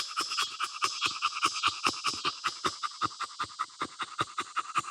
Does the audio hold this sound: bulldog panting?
yes